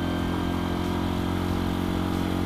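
A Honda Win 100 motorcycle revs in second gear, giving a steady, close, buzzing engine drone that holds throughout with no talking.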